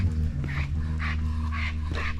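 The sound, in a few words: excited dogs barking on a swamp trail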